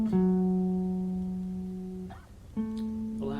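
Pentatonic substitute scale with one note left out, played on a single instrument as two sustained, resonant tones with rich overtones, the first long and ringing, then a short gap and a fresh attack on a slightly higher pitch.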